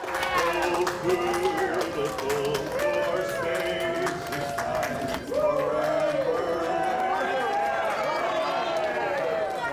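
A crowd claps and cheers while America the Beautiful is sung at a gathering honouring war veterans; sustained voices carry the melody, with rapid hand claps scattered throughout at a steady, lively level.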